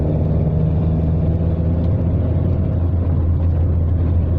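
A Matra Murena's engine drones loud and steady from inside the cabin, dipping briefly mid-way as the gear changes before the revs pick up again.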